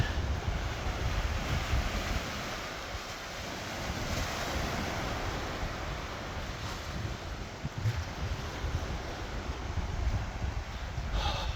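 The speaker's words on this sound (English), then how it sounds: "Another day at the beach." Surf and steady wind at a beach, a continuous broadband wash of breaking waves with microphone wind buffeting throughout, fairly loud and close, no voices.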